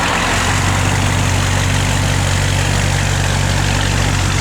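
A 1966 Ford 100 Custom Cab pickup idles with a steady, loud, low rumble that holds even and unbroken throughout, with no voices over it.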